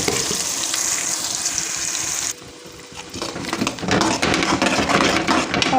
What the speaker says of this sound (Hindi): फिर हम थोड़ा सा इसको फ्राई कर लेते हैं।